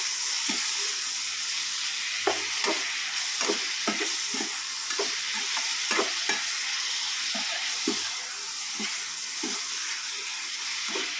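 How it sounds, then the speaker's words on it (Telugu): Tomatoes with salt stirred in a pan for kothimira tomato chutney, a steady frying sizzle broken by repeated scraping strokes of the spoon, close and continuous, with no talking. "ఉప్పు వేసుకుంటే ఇప్పుడు కలుపుకుందాం"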